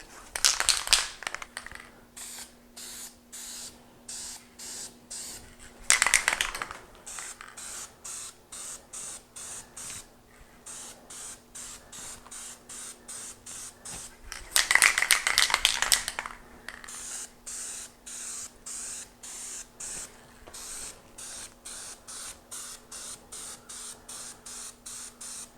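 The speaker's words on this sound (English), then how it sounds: "First light coat. It's just like all of these spray bombs." A spray paint can lays a light coat of Thornton 455 blue metallic onto a car valve cover, with several loud hissing bursts separated by pauses and a faint steady hum in between.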